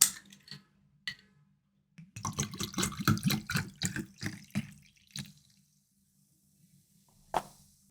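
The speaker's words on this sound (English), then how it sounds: "So with the Glenmorangie, I'm going to add grapefruit tonic to it." Grapefruit tonic poured into Glenmorangie whisky for a highball, a soft close trickle and fizzing splash lasting a couple of seconds, preceded and followed by faint clinks and taps in a quiet room.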